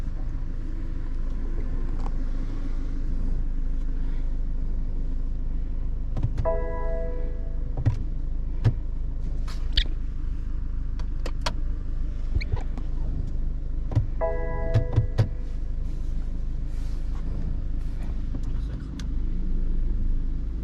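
A tuned 2021 BMW 1 Series M Performance car driving on the road, its steady low engine rumble and road noise continuous throughout, with a few short clicks and electronic chimes from the cabin.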